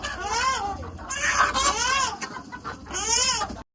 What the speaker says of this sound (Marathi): दाखवू कोंबडा, दाखवू कोंबडे. हे 4 कोंबडे आम्ही घेतले आता.